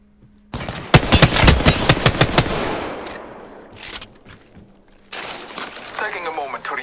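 Rapid automatic gunfire from a video game, a dense burst of loud shots over about two seconds that fades, followed by a softer clatter of game sound effects; voices talk over parts of it.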